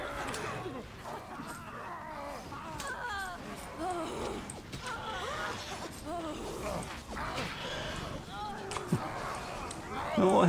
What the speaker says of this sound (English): Heavy breathing going on in this game.